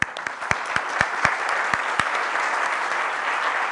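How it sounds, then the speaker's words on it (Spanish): A room full of listeners at a talk on digital transformation gives a final round of applause for a speaker named Lucía, opening with a few sharp individual claps before settling into a steady, even wash of clapping. "le damos un último aplauso a Lucía"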